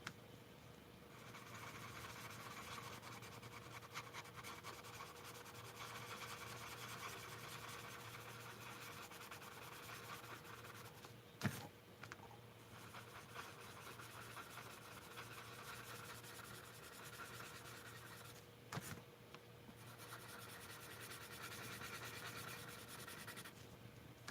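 A blender pencil rubs steadily on paper during a mixed-media drawing, a soft continuous scratchy stroking that is very faint and lasts throughout, broken by two brief knocks.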